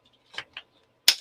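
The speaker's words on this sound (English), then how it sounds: "I'm just going to round those corners" A hand corner rounder punch snaps through paper card corners in three short, crisp clicks, close and quiet, with the last one sharpest.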